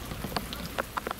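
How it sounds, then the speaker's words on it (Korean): Rain falling outdoors during a summer outing in Gapyeong, a steady wash of patter with several sharper drops striking nearby surfaces, fairly quiet and with no voices. "또 제이홉이 오니까 비가 오는구만."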